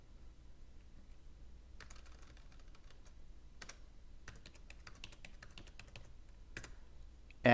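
Computer keyboard keys clicking as a telnet command to a router is typed, in short bursts of quiet, close taps with pauses between them over a faint steady room hum.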